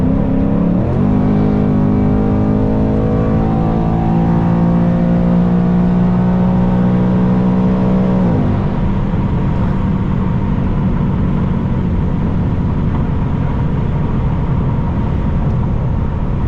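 A V8 car engine, two cylinders up on a turbocharged EcoBoost, revs hard and accelerates: a loud, close, rising engine note climbs through the gears, then settles into a steady full-throttle roar with no talk.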